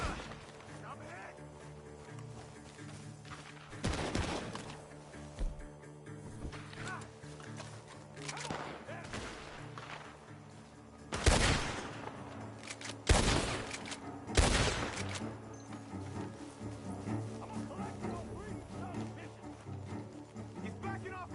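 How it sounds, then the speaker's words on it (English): Gunfire ringing out from a barn in a video game, several loud bursts and single shots spread over the stretch amid game noise, with hoofbeats and voices talking over it. "The gunshots are coming from that barn."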